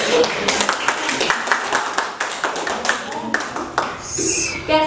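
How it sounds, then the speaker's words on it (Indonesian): A small classroom audience of teachers claps hands after a presenter at a school workshop on positive discipline. The claps are close and uneven, and voices and other noises come in near the end. "kita beri tepuk tangan"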